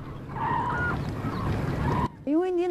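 Black-necked cranes wintering in Tibet call in loud honking, trumpeting notes over a steady rumbling background, with a sharper, closer bugling call near the end.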